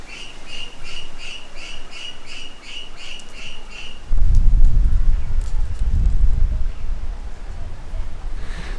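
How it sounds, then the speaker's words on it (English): A tawny frogmouth at a Brisbane koala sanctuary gives a rapid series of about ten evenly spaced calls, then stops as louder rumbling wind noise takes over. "That was a tawny frogmouth."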